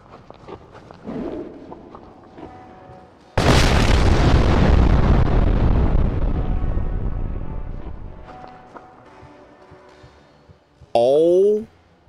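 In a fleshy horror video game, a red barrel is shot and explodes with a loud, close boom that rumbles and slowly fades over several seconds, followed by a brief sharp burst; quiet footsteps and ambience come before it.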